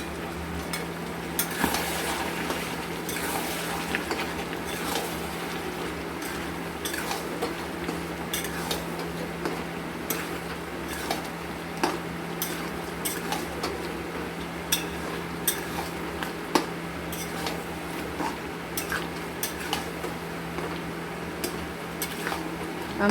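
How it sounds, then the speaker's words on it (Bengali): Chicken pieces with capsicum being stir-fried over high flame in a pan, with steady sizzling and a continuous run of scraping, clinking spatula strokes against the metal, a low hum underneath and no talking. "আমরা 5-7 মিনিট কষবো।"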